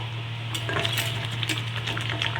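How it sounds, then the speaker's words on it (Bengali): A metal lid lifted off a cooking pot of steamed soybean bhapa, with several close, light clinks and clatters over a steady low hum and background hiss. "আমি ঢাকাটা খুলে নিলাম"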